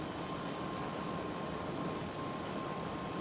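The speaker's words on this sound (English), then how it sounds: "And EasyJet A320." EasyJet Airbus A320 passing near Schiphol Amsterdam, a faint, steady broadband jet rumble with a thin tonal whine that stays even throughout, no voices.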